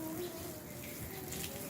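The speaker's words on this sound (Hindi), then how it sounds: "ये पानी की आवाज़ भी आ रही है" Water runs continuously outdoors in a garden, a faint, steady flowing hiss like a tap or small gush, quiet and unbroken.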